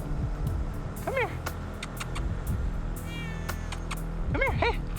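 A cat stuck up high meows repeatedly during a ladder rescue by firefighters, with several clear, rising-and-falling cries heard over outdoor background noise and faint talk nearby.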